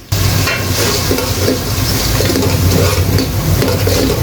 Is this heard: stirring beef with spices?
yes